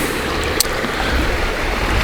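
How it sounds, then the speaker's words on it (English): A creek carries a little water, and it flows as a steady, broadband rushing wash at moderate level, with no voices. "A little bit of water flowing through the creek"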